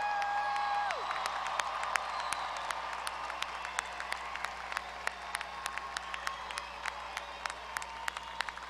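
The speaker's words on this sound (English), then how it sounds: "Let's give them one big round of applause." A large commencement crowd at Texas A&M-Corpus Christi's 2019 spring ceremony applauds the graduates in a dense, sustained wash with a few sharp claps standing out, after a brief tone at the start.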